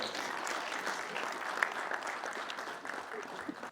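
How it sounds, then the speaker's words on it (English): A round of applause from a conference audience in a hall, fairly quiet and steady, a broad wash of clapping that tapers slightly at the end. "Please, a round of applause."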